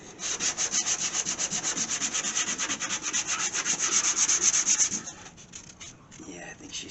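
Bondo body filler on an AMC Gremlin's spot rust repair being sanded by hand with 80 grit sandpaper, a steady rhythmic scrubbing of close, even strokes for about five seconds that then tapers off.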